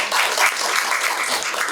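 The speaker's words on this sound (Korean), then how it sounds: "예, 박수 부탁드립니다." An audience at a National Assembly Library colloquium on AI legislation in Korea gives a short burst of applause, an even wash of clapping under two seconds long with no talk over it.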